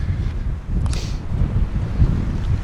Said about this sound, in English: I don't know if you can hear that wind and the mic's picking it up